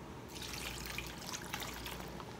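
A cup of water pours and trickles quietly and steadily into an Instant Pot with tomato paste, close by and without talk.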